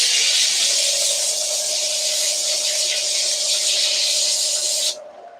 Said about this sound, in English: I'm just spraying the front of these.